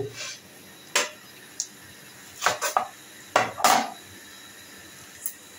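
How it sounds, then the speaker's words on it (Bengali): A knife cuts an onion on a board in a home kitchen, producing a few sharp, irregular knocks and clacks spaced apart with quiet gaps between, close and clear. "এখন পেঁয়াজ কাটবো"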